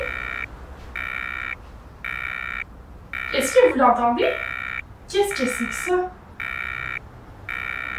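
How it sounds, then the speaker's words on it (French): An accessible pedestrian crossing signal for blind people sounds a steady, evenly spaced series of electronic beeps, about one per second, while two people speak in French over the middle stretch. "c'est l'alarme qui sert aux personnes non-voyantes à traverser la rue"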